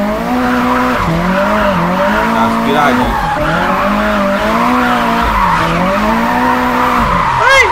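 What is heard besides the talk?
tuned car driving and skidding, from the video game Japanese Drift Master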